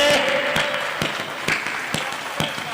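Audience clapping in a hall during a Hindi poetry recital honouring Maharana Pratap: a steady, dense wash of many hands, with sharper individual claps standing out at regular intervals throughout.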